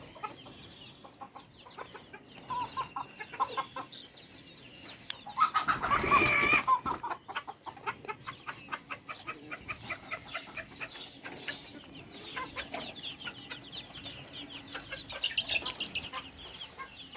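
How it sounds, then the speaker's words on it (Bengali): A rooftop flock of eighteen hens and two roosters clucks steadily and busily throughout, with one louder, denser burst of calls near the middle; the birds sound fairly close and no one speaks. "আমার মাত্র হচ্ছে আঠারোটা মুরগি দুইটা মোরগ মোট বিশটা"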